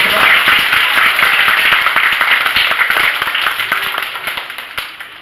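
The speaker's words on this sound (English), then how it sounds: "Give them a big round of applause." An audience claps at a children's safety program, with sharp, loud, closely packed handclaps that continue for several seconds and gradually thin out toward the end.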